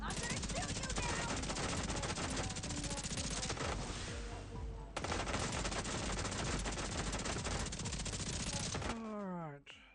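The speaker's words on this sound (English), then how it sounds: "I'm gonna shoot you now!" Rapid automatic gunfire from The Division 2, played on PC, keeps up a dense, loud rattle with a brief break near the middle. It cuts off near the end as a voice speaks.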